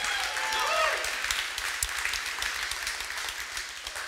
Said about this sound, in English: Can we give the first-time guests another huge round of applause